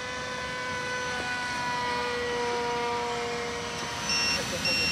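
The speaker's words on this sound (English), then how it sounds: "there's Mike with his heli" A radio-controlled model helicopter flies overhead at an RC model airfield, its steady high whine and tonal buzz continuing evenly at a moderate distance with a slight rise near the end.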